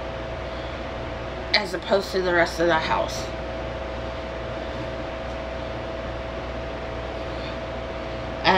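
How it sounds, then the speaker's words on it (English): Electric fans run steadily in a hot bedroom, a constant whirring hum and airy hiss lasting throughout, with a person speaking briefly over it near the start. "if you hear the fans in the background"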